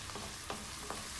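Chicken biryani ingredients are stirred in a hot pan, giving a steady sizzle with two or three short scraping strokes of a spoon, close and fairly quiet.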